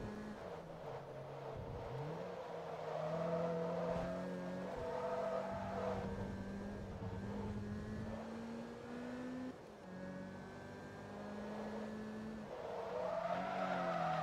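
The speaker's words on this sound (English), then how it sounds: "Drift in the car." Cars drifting in the Forza Motorsport 2 racing game, with a steady engine drone and long wavering tire squeals that swell and fade across the turns, loud and continuous with no talk.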